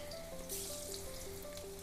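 Okra fries in oil over medium heat, a soft steady sizzle heard close by with a faint tonal hum beneath and no talking.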